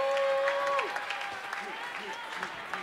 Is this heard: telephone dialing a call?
no